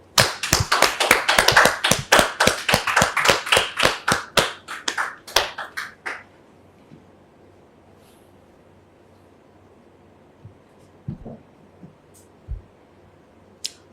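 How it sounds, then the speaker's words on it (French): A burst of hand clapping from a crowd, dense at first and thinning out after several seconds, followed by quiet with a few scattered claps. "Est-ce qu'on peut la recevoir sous vos applaudissements,"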